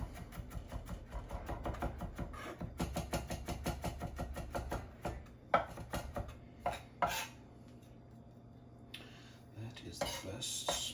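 Rapid rhythmic knife strokes rock and tap against a cutting board while food is minced, close and steady, then a few scattered knocks and scraping sounds as the pile is gathered up.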